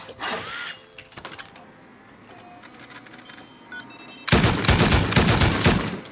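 Nail gun auto-turrets fire in a video game: a few scattered clicks and a thin rising electronic tone, then a loud, dense, rapid burst of mechanical shots erupts and keeps going to the end.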